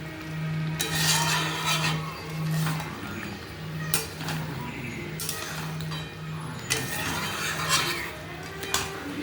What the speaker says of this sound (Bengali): এবার এটা ভালো করে মিশিয়ে দেবো।